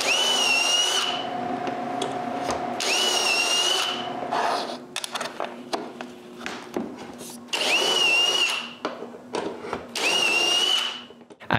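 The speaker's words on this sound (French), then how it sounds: "je m'en sers comme guide pour percer tous les trous des tablettes" A power drill bores shelf-pin holes through a spacer guide into kitchen cabinet sides, in four loud, whining bursts of a couple of seconds each, separated by quieter handling noises and short drill blips.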